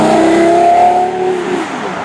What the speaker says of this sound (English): It doesn't sound inside anywhere near as good as it sounds on the outside, the exhaust note.